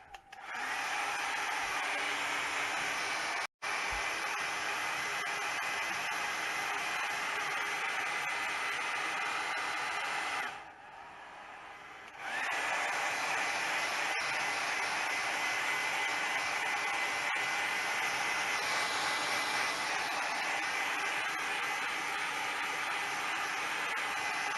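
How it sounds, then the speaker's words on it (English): A hair dryer drying a watercolor painting blows with a loud, steady hiss for a long stretch, stopping briefly twice and then running again. "now I'm going to dry it off"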